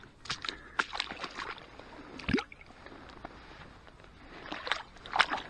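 Water sloshes and gurgles as a muddy find from winter mudlarking on the foreshore is rinsed and jiggled about, with irregular close splashes, a brief louder splash midway, and faint talk around it.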